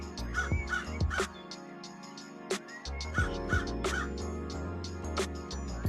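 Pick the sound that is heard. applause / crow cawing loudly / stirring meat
crow cawing loudly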